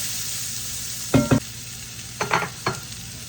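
Vegetables seasoned with salt and pepper cook in a pan, a steady sizzle running underneath a few short clattering stirs of a utensil, close by and with no talking.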